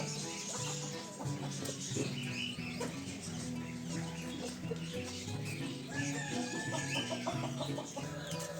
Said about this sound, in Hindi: कैसर भाई, बहुत सारे लोग पूछते हैं कि ये मुर्गियां अंडा नहीं दे रही।